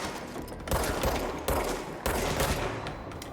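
Bursts of heavy gunfire in the video game Control, three loud rapid volleys about a second apart, dense and close with no talk.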